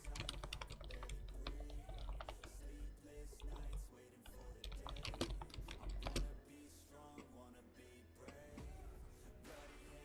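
Fast typing on a computer keyboard, a dense stream of close, crisp key clicks and clacks with brief pauses, fairly quiet and without talk.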